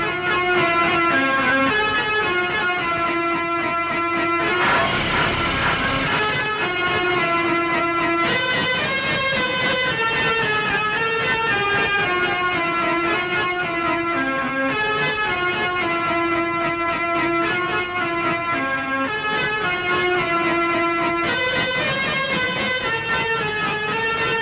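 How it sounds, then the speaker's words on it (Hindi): A snake charmer's been, or pungi, plays a loud, continuous reedy drone under a steady wavering melody, with a brief noisy burst around the middle and no talk. "साहब जी यही वो बीन है, इसे बजाइए।"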